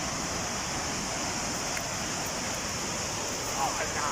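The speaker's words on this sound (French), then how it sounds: "Bienvenue à la cascade De Glandieu." Steady broadband roar of the Cascade de Glandieu waterfall, a constant close rush of falling water filling the whole clip with no pauses.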